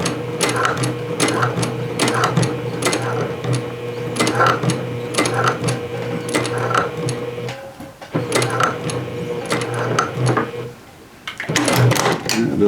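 A domestic sewing machine runs in sustained bursts, stitching a curved jeans seam about 5/8 inch in from the edge, its steady mechanical whir pausing briefly before starting again, close and loud.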